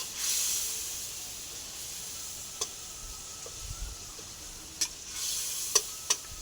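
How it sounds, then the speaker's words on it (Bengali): Masala being stir-fried in a pan for a soybean curry, a steady soft hiss and sizzle with a few sharp clicks of a spatula scraping the pan, close and unaccompanied. "এবার মশলাটা ভালো করে কষতে হবে।"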